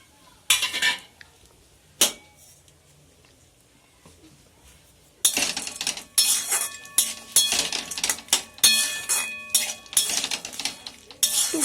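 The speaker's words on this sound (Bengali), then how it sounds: "এবার এর মধ্যে ড্রাই ফ্রুটসগুলো একটু ভেজে নেব।" Dry fruits fry in ghee in a wok and are stirred, with sharp metallic clinks and scrapes of a spoon against the pan, sparse at first, then dense and close, with a faint sizzle beneath.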